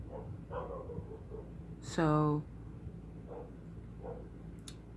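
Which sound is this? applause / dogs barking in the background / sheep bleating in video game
dogs barking in the background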